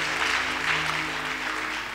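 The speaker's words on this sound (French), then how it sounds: "applaudissez-le avant qu'il ne commence" A Pentecostal church congregation in Lomé, Togo, applauds a visiting elder with a loud, continuous wash of clapping, backed by a low sustained instrumental hum.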